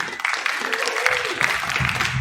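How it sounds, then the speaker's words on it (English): An audience at a regional comedy showcase in the Bellows Falls Opera House applauds steadily for the comics, a continuous wash of clapping at moderate distance, with some faint voices mixed in. "Let's keep the applause going for all the comics here."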